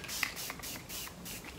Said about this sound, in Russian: закрепляющий спрей